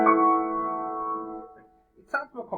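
A sustained harmonic chord of several tones stacked in repeated 3/2 frequency ratios rings clearly for about one and a half seconds and fades out, followed by brief talk.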